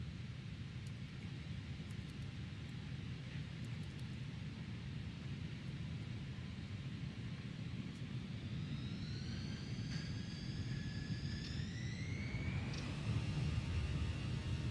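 Iberia Airbus A320 engines build during the takeoff roll, a steady loud rumbling roar inside the cockpit with rising whining engine tones spooling up toward the end, no talking.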